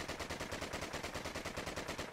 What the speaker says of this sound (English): There is your Akimbo rapid fire.